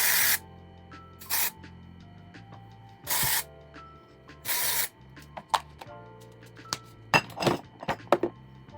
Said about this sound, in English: But first, I'm going to put some dry shampoo in.